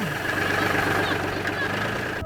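A steady, knocking tractor engine idles and rumbles continuously at close range, with a low mechanical throb and a faint whine running throughout.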